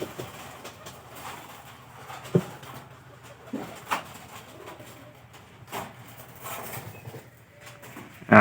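Pigeons sitting on eggs in a loft, faint low cooing with a few scattered knocks and brief wing flutters, recorded close and quiet.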